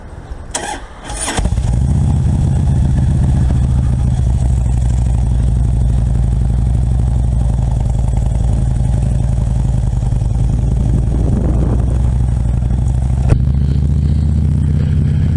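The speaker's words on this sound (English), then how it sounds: "at the helm of the 2005 Road King Classic" A 2005 Harley-Davidson Road King Classic motorcycle starts with a couple of sharp bursts, then settles into a loud, steady, deep engine rumble and riding drone that continues close and unbroken, with no talk.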